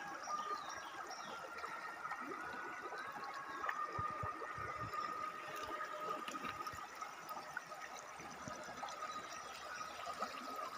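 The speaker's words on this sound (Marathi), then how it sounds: "मेन पाण्याची स्ट्रीम येते" A main stream of water flows into a traditional funnel-shaped fish trap, a steady moderate rushing and gurgling that continues throughout with occasional splashy bursts and no voices.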